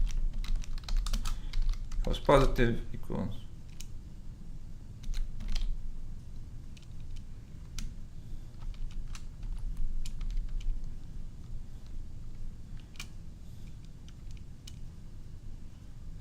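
Rapid clatter of typing code on a computer keyboard, with a dense flurry of keystrokes early on, then sparse taps, while someone talks quietly over it.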